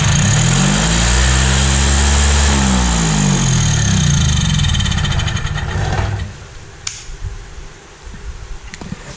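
A Ford F100 engine fires up with a loud rising rev that sweeps high, holds at a fast idle, then drops away to quiet with a few clicks and knocks.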